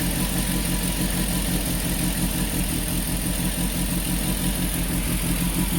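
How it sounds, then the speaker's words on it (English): A Peugeot 205 GTI engine idles steadily and loudly up close, a constant even drone with no talk over it. "so we start it up, a little bit of a tickle on the revs."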